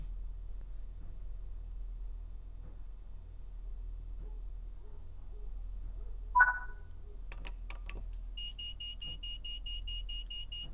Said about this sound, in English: There's the guard buzzer.